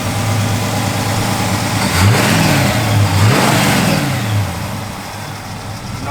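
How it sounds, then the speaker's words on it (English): A 1967 Pontiac GTO V8 idles close by, then is blipped through two or three quick revs that rise and fall before dropping back to a smooth idle. "Here Nathan just fired it up."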